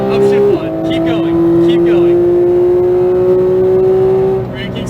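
A Porsche 911 GT3 991.2 accelerates hard around a Las Vegas race track, its engine note climbing in a loud, steady sustained tone after a brief dip early on, with an instructor talking over it.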